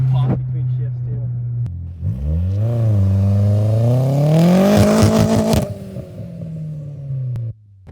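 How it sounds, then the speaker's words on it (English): A big-turbo Audi B5 A4 accelerating hard, its engine note rising loud and strong through the gears with crackling pops between shifts, then settling back toward a steady idle. "I like the little pop between shifts too."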